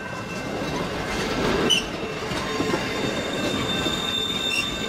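Electric locomotive train running along the rails, a steady close rumble of wheels with high squealing tones and faint rhythmic clatter throughout.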